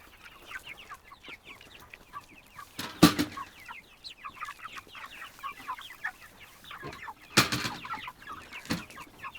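Six-week-old chickens on a Montana family farm cluck and chatter continuously at close range, with a couple of sharp louder bursts standing out above the soft, busy murmur.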